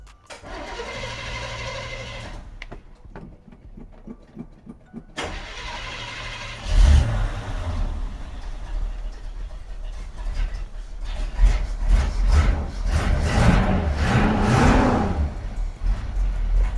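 An old 1975 Chevrolet C10 pickup truck engine cranks, catches and starts, then runs with a rough, uneven rumble that rises and falls as it revs.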